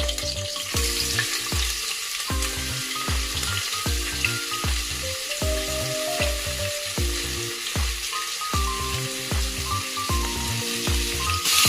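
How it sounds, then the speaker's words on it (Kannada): Onions frying in a pan for biryani, a continuous loud sizzle and crackle with no speech, over a steady musical backing. "ಇದು ಗೋಲ್ಡನ್ ಬ್ರೌನ್ ಆಗೋವರೆಗೂ ಈರುಳ್ಳಿನ ಫ್ರೈ ಮಾಡ್ಕೋಬೇಕು"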